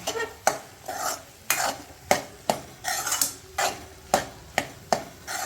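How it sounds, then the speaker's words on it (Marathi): A spoon works dry fruits into carrot halwa in a pan, giving a regular rhythm of scraping, clattering stirs about twice a second over a soft background sizzle, close and with no talking. "आणि आता त्यामध्ये टाकणार आहोत ड्रायफ्रुट्स, आणि हे सगळं व्यवस्थित मिक्स करून घ्यायचंय।"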